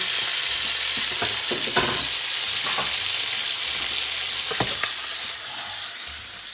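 Shrimp, roasted peppers and sun-dried tomatoes fry in a pan with a loud, constant close sizzle, broken by several sharp scraping stirs from a utensil, and no talk.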